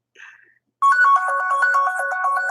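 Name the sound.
phone ringtone ringing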